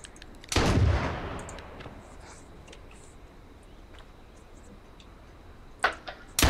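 Sniper rifle fire in the zombie survival game H1Z1: one loud, booming shot that rings out and fades over about a second, followed later by a couple of fainter, sharper cracks amid quiet ambience.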